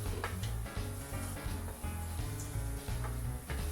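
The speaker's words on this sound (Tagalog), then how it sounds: "Pag mainit ang mantika, ay igisa na itong bawang." Garlic frying in hot cooking oil in a pan, a steady crackling sizzle with a low bubbling undertone throughout, fairly close and uninterrupted.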